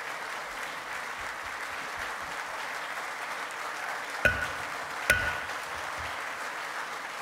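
Steady applause fills the North Carolina House chamber after passage of a bill on the final Medicaid vote, a sustained wash of clapping with two sharp knocks cutting through near the end.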